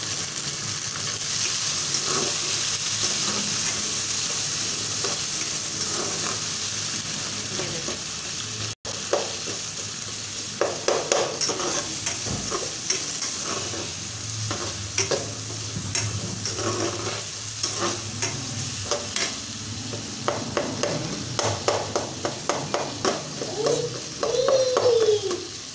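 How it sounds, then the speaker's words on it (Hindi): Green peas with tomato fry in a pan for a pulao, a steady sizzle underneath as a spoon scrapes and stirs, the clicks and scrapes growing more frequent later, close by with no voices. "ये देखिए हमने 5 मिनट में मटर अच्छी तरह से भून लिया।"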